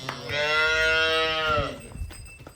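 A cow moos once, loud and close, one long drawn-out call of about a second and a half at a cattle sale, followed by faint shuffling and background noise.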